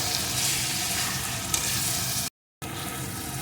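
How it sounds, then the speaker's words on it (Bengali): Masala spice paste fries in oil in a pan with a steady, dense sizzle that holds close and loud throughout, broken by a brief silent gap before it resumes. "এখন এই মশলাটা আরও কিছুক্ষণ আমি কষিয়ে নেবো"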